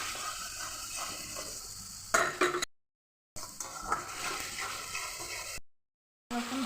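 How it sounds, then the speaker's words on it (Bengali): Garlic paste stirred into fried onions in a hot oiled pan, giving a steady close sizzle with scraping spoon strokes, cut off by two short silent gaps. "এখন রসুন বাটা দিয়ে অল্প নেড়ে নেব"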